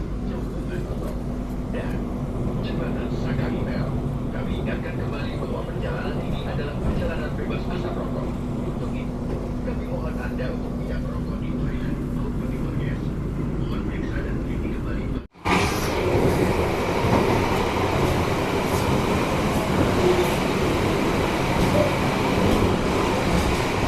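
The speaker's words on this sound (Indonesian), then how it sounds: "Selama perjalanan ini keretanya full ngebut kawan." An Indonesian executive-class passenger train runs at high speed, a loud, continuous rumble and rattle of wheels on track that carries on throughout, briefly cut by a sharp break before returning louder and brighter.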